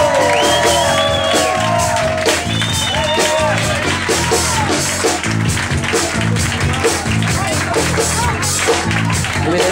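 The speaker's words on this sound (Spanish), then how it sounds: "fuerte aplauso" A nightclub audience cheers and claps as a musician is introduced on stage, with loud sustained clapping, shouts and rising whoops packed together throughout.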